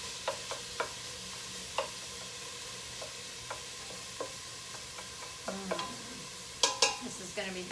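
Onions sautéing in a pan for bean tacos give a soft, low sizzle broken by sharp, intermittent clicks and scrapes of a utensil against the pan, with a louder cluster of taps near the end.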